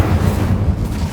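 A fire spell blast in Hogwarts Legacy: a short, loud, booming whoosh with heavy low rumble that fills the whole brief moment, with no talk.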